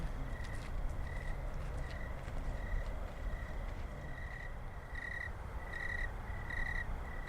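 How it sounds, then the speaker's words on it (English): Short, evenly spaced frog calls repeat over a constant outdoor hum, fairly faint and distant, growing a little clearer toward the end. "I think that might be a frog."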